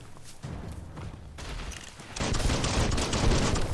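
Rapid bursts of gunfire from the video game Biomutant crackle in dense, overlapping volleys, growing louder and heavier in the second half, with no voices over them.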